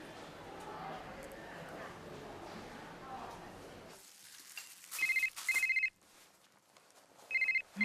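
An outgoing phone call gives off short, shrill ringback tones, two back-to-back bursts and then a third, heard in a quiet room after earlier busy background noise.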